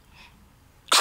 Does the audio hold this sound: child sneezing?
yes